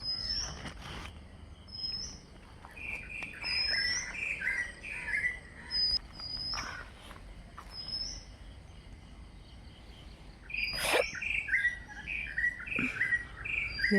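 Repeated bird chirps and short tweets scattered across the clip, moderately close, with a faint insect hum and a louder burst of calls near the end.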